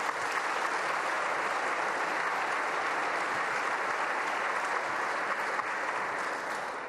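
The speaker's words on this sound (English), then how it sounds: "Let's give Adana a round of applause" A large audience at a mayor's state of the metro address gives a sustained round of applause, dense and even throughout, tapering only slightly at the end.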